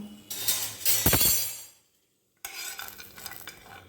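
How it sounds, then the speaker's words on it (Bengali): Cashews and raisins are dry-roasted without oil in a pan and stirred, giving a steady scraping, rustling rattle that breaks off into silence and then resumes, close and moderately loud. "শুকনো প্যানেই নেড়ে নিচ্ছি আমি এটা কোনো তেল দিয়ে ভাজছি না"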